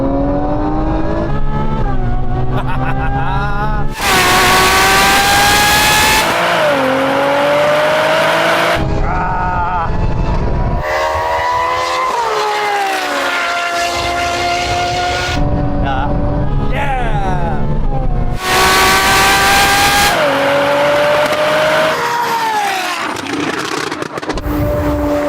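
Nissan GT-R NISMO and Ferrari 812 drag racing, loud engines revving hard through rising gear-by-gear whines with abrupt shift breaks, recorded close from inside the car, while voices talk over the roar.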